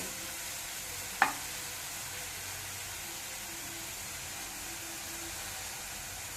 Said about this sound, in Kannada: ಒಂದು ಎರಡು ನಿಮಿಷ ಕ್ಯಾರೆಟನ್ನು ತುಪ್ಪದಲ್ಲಿ ಹುರ್ಕೊಂಡ ನಂತರ